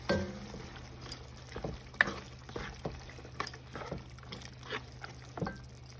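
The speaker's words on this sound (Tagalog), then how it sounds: "halo na natin yung carrots" A utensil stirs carrots into pansit frying in a pan, giving close, repeated scraping strokes over a low background hum, with a soft sizzle between the strokes.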